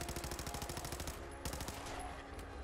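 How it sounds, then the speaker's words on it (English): Rapid automatic weapon fire from the video game Fallout 4 rattles in a fast continuous burst, pauses briefly, then resumes in a second, shorter volley. "I know I'm using an automatic weapon,"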